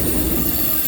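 A CSX freight train rolls past close by with a continuous heavy rumble and a high, sustained squeal of steel wheels on rail, loud and unbroken.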